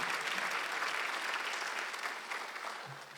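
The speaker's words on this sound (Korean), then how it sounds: "믿는 사람만 박수 한번" Church congregation applauds steadily during a Sunday worship service, a dense sustained clapping that tapers slightly toward the end.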